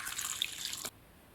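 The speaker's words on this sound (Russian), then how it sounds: "Заливаю водой, пусть немножечко размякнет." Water pours from a tap onto dried apricots and pitted prunes, a brief close splashing stream that cuts off sharply after under a second, followed by quiet.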